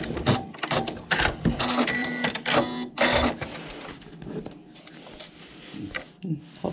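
A sewing machine back-stitching a pillow cover runs in short close whirring bursts, stopping and restarting with mechanical clicks, then quieter handling noises.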